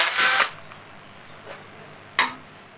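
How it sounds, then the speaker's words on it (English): A drill fitted with a small countersink bit gives a short whirring burst, then a faint brief touch and one more quick whir, close, with quiet pauses between. "a little countersink bit just to pretty up the hole from the outside"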